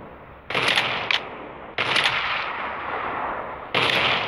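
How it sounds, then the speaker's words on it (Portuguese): Heavy gunfire in the mobile game Rules of Survival booms in three bursts, each blast trailing off into a long rumbling echo, with no talking over it. "Tem tiro pra cá, ó."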